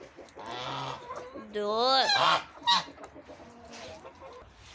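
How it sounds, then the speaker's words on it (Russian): Chickens, ducks and geese calling up close, with honking and clucking bursts from several birds, and a person briefly speaking among them. "А сейчас у нас вот такая большая орда из кур, уток и гусей."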